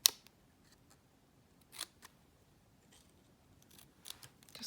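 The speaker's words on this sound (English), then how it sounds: "I'm going to take my scissors here and cut a little fishtail" Scissors snipping a fishtail into the end of a paper strip for a handmade card, a few faint crisp cuts with quiet pauses between them.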